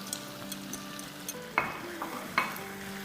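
Diced bell pepper and onion being stirred in a pan with a sizzle, producing a series of soft scraping stir strokes with two sharper clinks of the utensil against the pan.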